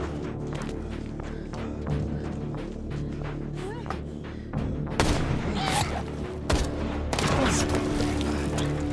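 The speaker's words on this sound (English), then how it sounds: "Who the hell is shooting at us?" Gunfire in an action film, a dense fusillade of sharp shots and heavier booms rattling off in quick irregular bursts, loud and close, with a louder barrage surging near the end over a constant rumbling background.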